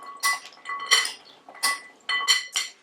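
A metal spoon tosses frozen okra pieces coated in egg inside a bowl, giving bright scraping clinks in about six quick bursts, close and moderately loud with no talking.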